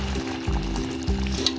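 Chicken pieces and potatoes fry in ghee in a pan with a loud, steady sizzle, broken by a few rhythmic scraping stirs up close.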